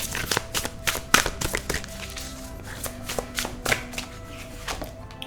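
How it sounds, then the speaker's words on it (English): A deck of tarot cards shuffled by hand: quick, crisp riffling and tapping bursts repeat in an irregular rhythm, close and fairly quiet, with no talking. "So I'll shuffle the deck."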